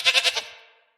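A goat bleats in a quick wavering series of four pulses, close and clear, then the call trails off into silence with no talk.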